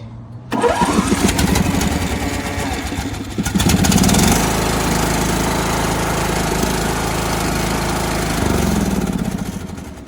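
A petrol lawnmower engine cranks and catches, then runs with a loud, rough, steady chug, briefly revving up again near the end.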